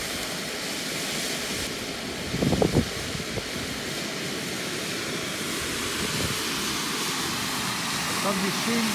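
Wind blowing outdoors makes a steady, broad rushing roar that holds for the whole stretch, with a few brief voice-like bursts rising above it.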